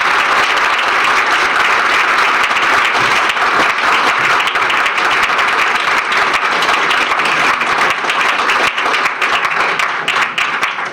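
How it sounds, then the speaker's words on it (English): Loud, sustained applause from a community forum audience for a village trustee candidate, dense even clapping holding steady throughout with little letup. "You can applaud now for the candidate."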